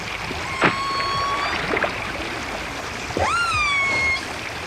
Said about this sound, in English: That it's something special is evident from the whales' voices.